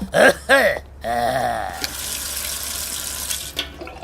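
Water runs from a tap in a steady hissing stream after a few brief voiced sounds at the start, continuing close and fairly loud before easing off near the end.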